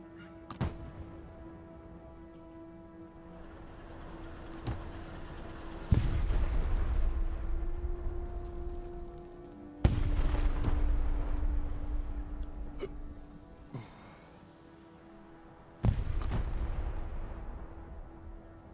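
Artillery fire mission in the video game Broken Arrow: three heavy booming impacts land several seconds apart, each followed by a lingering rumble over a steady low hum and faint game ambience.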